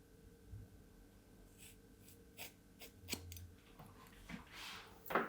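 Scissors snip off hair for a buzz cut, a few sparse, faint crisp cuts spaced irregularly with soft breathing close by and no talk.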